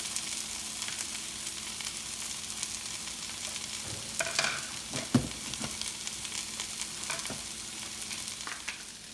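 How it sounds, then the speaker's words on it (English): Turmeric and water sizzle quietly in a pan for aloo gobi, a soft continuous hiss broken by a few scraping stirs and clatters midway. "You can hear the sizzle."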